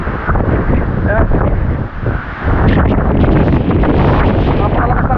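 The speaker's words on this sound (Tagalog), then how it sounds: "Napakalakas ng hangin." Very strong typhoon wind roars and buffets the microphone in San Roque, a loud, continuous rushing gust with a brief dip before surging back even harder.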